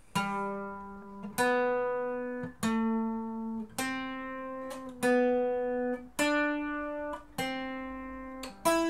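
Slow ornamental phrase in G on a requinto guitar, about eight clear plucked notes spaced evenly, each ringing and fading, played close and alone.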